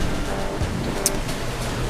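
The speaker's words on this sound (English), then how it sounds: "And we got some crazy wave action going on." Big ocean waves rushing and surging around a sailing boat under staysail and reefed main, a loud continuous wash mixed with wind noise on the microphone, with no talking.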